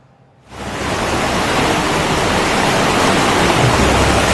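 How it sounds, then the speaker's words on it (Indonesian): Fierce water of a rising, flooded river rushes in a dense, loud roar that swells in after a quiet start and holds steady, with no voices. "Suara gemercik air yang ganas dan derak jembatan kayu yang nyaris patah"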